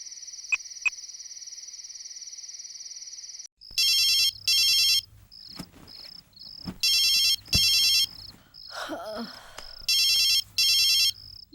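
A phone rings with a warbling electronic ringtone in short double bursts, starting with a steady tone and then repeating several times over rustling and soft movement noises.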